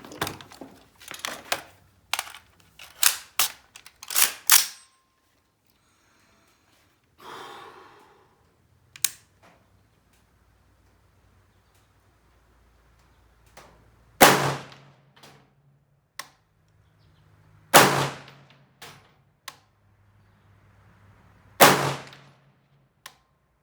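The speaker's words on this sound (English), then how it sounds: "I'm gonna actually go back and fire a couple more groups just to see if it's me or the rifle" Shots from an AR carbine rifle crack at an outdoor shooting range, first as a quick cluster of several loud reports, then after a quieter stretch as a few single, spaced, booming shots with short echoing tails.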